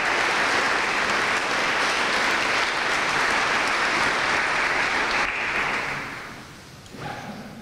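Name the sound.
audience applause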